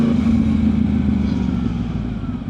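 A Yamaha R1 998cc litre-class sport motorcycle is being ridden, giving a close, loud, steady low engine drone that eases slightly toward the end.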